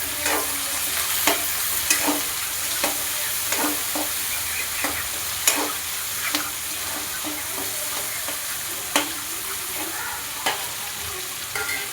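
Two chopped tomatoes frying in a pan for rice upma, a steady sizzle broken by regular scraping clinks of a spoon stirring, close and clear with no talking.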